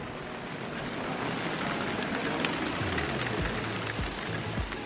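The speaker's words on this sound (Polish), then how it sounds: "Jak tak sypię gradem, to w jurcie kompletnie nic nie słychać. Jest strasznie głośno." Hail pelts the roof of a yurt in a dense, unbroken clatter that stays loud and even throughout, like a constant drumming hiss close overhead.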